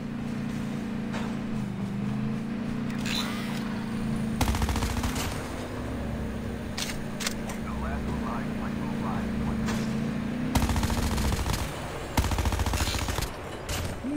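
Rapid bursts of automatic gunfire from Call of Duty Mobile battle royale, loud repeated volleys over a steady engine-like drone, with several sharp separate shots near the end.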